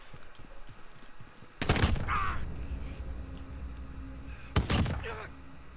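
Two heavy Barrett .50 cal rifle shots from Call of Duty Modern Warfare, each a loud, booming crack with a ringing tail, spaced a few seconds apart over a busy game background.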